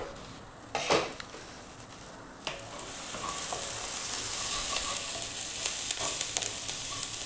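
Onions fry with gongura leaves in a pan, a steady bright sizzle that grows fuller and louder after the first few seconds, with a couple of clanks from a utensil against the pan near the start and no voices.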